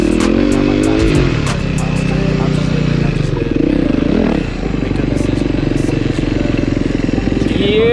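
A Suzuki DR-Z dirt bike runs close by, its single-cylinder engine chugging and revving with a raspy, uneven note, with some rattling and voices underneath.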